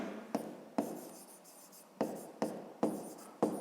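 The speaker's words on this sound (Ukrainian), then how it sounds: "Пишемо 43." Handwriting on paper while working a fifth-grade maths exercise: several short, soft scratching pen strokes in quick bursts with brief pauses, faint and close, with no talking.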